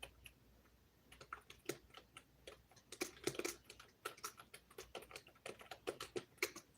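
Rapid, uneven typing on a computer keyboard, the close key clicks clustering in bursts with short pauses and no talk.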